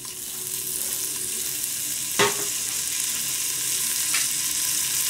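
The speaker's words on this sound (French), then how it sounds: "Je mets donc la poitrine fumée." Smoked pork belly sizzles steadily in olive oil in a pan, a continuous loud frying hiss with a brief stir or clatter partway through and no talking.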